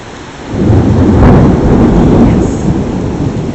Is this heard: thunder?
yes